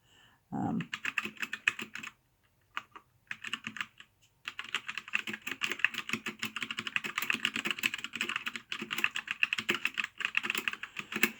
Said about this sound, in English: And the typing on it, I will do some.